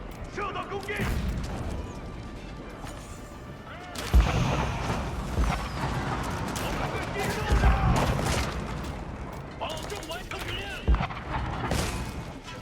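Cannons and bombards fire in a strategy video game battle, repeated booms and crashes scattered among dense clatter, with commentators talking over the action throughout.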